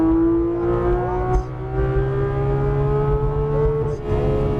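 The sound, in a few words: Porsche 993 GTS RS engine on race track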